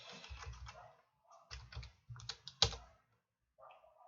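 Keys clack on a computer keyboard as a Linux command is typed into a Debian 10 system, in short uneven bursts of close, crisp keystrokes with brief pauses between them.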